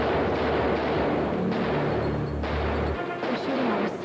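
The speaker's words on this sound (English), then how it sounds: "They're shooting at us." Heavy gunfire rattles through a TV drama scene, a dense run of loud booming shots and crashes that fills the moment with no talk, then cuts off abruptly near the end.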